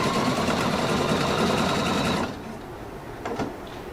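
A Pfaff Quilt Expression 720 sewing machine stitches ribbon with a steady, fast mechanical whir for about two seconds, then stops, leaving faint clicks and handling noises.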